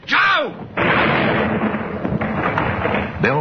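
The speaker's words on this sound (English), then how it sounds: "Bell fired at the precise moment when the bomb exploded." Gunshot and bomb explosion in a radio drama, a loud crack followed by a heavy sustained blast with rumbling debris, then another sharp report at the end, with a voice briefly audible.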